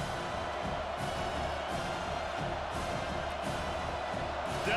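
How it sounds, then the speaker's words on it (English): Stadium crowd in the College Football 25 video game, a steady broad roar of cheering for the defense on third down in a Pittsburgh vs Penn State matchup, moderately loud and unbroken with no talk over it. "Decibels rising as the crowd gets behind this defense on 3rd down"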